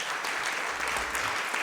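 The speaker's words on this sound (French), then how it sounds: "Des applaudissements nourris." An audience at a fashion show competition applauds with sustained, dense clapping that stays steady and fairly loud throughout, with no voices rising above it.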